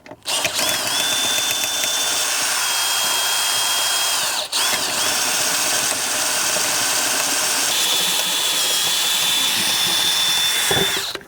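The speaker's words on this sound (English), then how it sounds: "You got a drill?" A power drill drilling out rivets whines steadily at high speed for several seconds, briefly stopping, then starting again, loud and close with metallic grinding.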